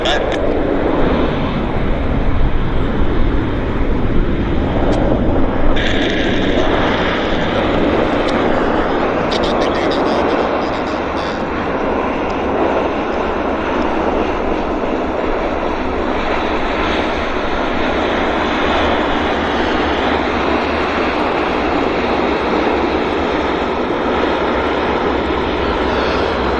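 A Q400 turboprop airliner at Vancouver Airport produces a loud, sustained engine roar with a steady droning propeller hum, close and continuous throughout, while people talk over it.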